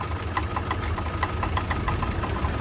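A used Euro 55 hp farm tractor engine runs steadily at close range, a loud, even diesel rumble with a rapid regular knock throughout and no talk.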